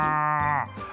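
A single loud cow moo, drawn out for about a second with a falling tone, in an Indonesian children's fable about a foolish wolf, heard alone.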